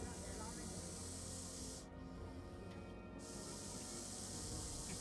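Russell's viper hissing from inside a bag, a loud, continuous breathy hiss that breaks off briefly in the middle and then resumes with the same force.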